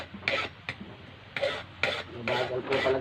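Hand file rasping the tip of a piece held in a vise grip, sharpening it manually: about five short, close, gritty strokes in an uneven rhythm with brief gaps between them.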